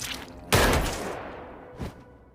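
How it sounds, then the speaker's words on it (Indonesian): Gunshot in a scene from the 2023 Korean superhero drama series Moving: a sudden loud blast that decays over about a second, followed by a second, fainter report shortly after. "Kemudian Chan Il pun ditembak mati oleh Mi Hyun."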